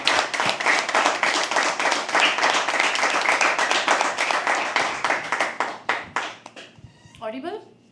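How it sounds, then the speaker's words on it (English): Dense, lively clapping from an audience at a poetry open mic, sustained and fairly loud before thinning out and fading, with a voice speaking briefly at the end. "Keep clapping till she comes on stage."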